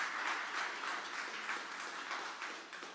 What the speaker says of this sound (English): Everyone, please give another round of applause.